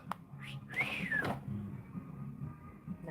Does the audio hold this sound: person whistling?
yes